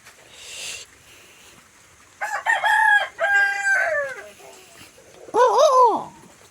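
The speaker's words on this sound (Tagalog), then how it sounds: "Ang daming mga manok dito." A rooster crows loudly nearby in two long calls, with chickens clucking and faint background noise in between.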